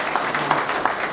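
A brief burst of dense audience applause at a People Power Party election campaign committee launch, a steady wash of many hands clapping together.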